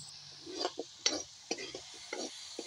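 A spoon stirs spiced eel with water in a pan, producing soft scraping and clinking strokes in a quiet, close kitchen setting.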